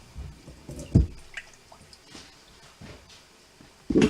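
Red sauce pours over pork and other ingredients in a pan, heard as a few soft splashes and wet drips, with a thicker slosh at the end and otherwise quiet gaps.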